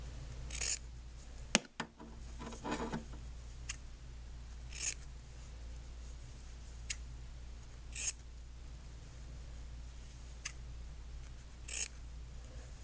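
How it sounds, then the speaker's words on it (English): Scissors snip through fabric petal shapes in a series of crisp, close cuts spaced a second or two apart over quiet room tone, with a brief handling thump near the start. "And then each of those I cut in half."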